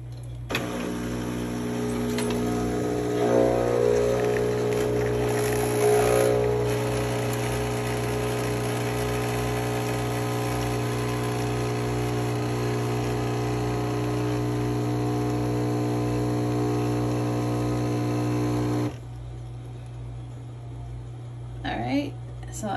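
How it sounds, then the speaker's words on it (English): An espresso machine pulls double shots with a loud steady pump hum and a whining motor drone that runs for most of the time, then cuts off near the end. Someone speaks briefly. "Okay, so now ready to pull the espresso shots."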